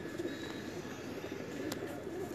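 Teddy pigeons cooing softly at a loft in Lahore, low murmuring coos over a faint background hum, fairly quiet and continuous.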